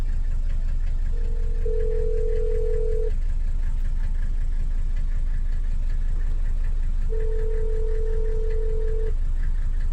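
Two long steady ringback tones sound during a phone call, spaced several seconds apart over a constant low rumble of engine or road noise.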